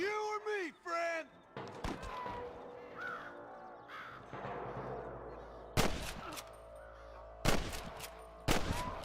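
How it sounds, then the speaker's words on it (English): Several sharp gunshots in Red Dead Redemption crack out in a sparse, irregular pattern, loud and close, separated by stretches of ambient rumble and shuffling noise. "I can hear more gunshots."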